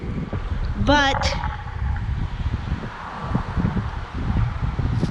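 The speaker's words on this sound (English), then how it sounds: "It's breezy today." Breezy, warmish outdoor wind rushes and buffets the microphone in steady low gusts, with someone talking briefly over it and a bird call early on.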